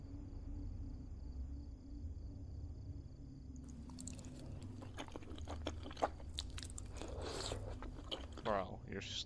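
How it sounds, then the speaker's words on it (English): A person slurping and chewing food up close, with wet, crunchy bites and sucking noises in irregular bursts over a steady low background hum, while others talk. "you're slurping that shit up"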